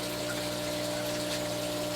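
An aquarium water pump running in an axolotl tank, a steady continuous hum with a constant rush of moving water, close and even, with no voices.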